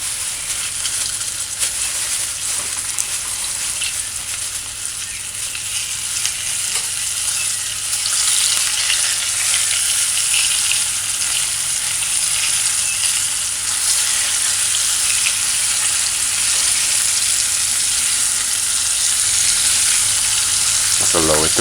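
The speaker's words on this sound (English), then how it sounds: "Just allow it to fry on one side for a couple of minutes." Flour-coated chicken sizzles steadily in hot oil, a loud continuous crackling hiss with occasional pops that holds for over twenty seconds and grows slightly stronger partway through.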